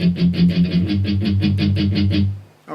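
Palm-muted electric guitar power chords play the chugging verse riff of a song, a steady tight eighth-note pulse with accented chord hits, loud and close, ending abruptly.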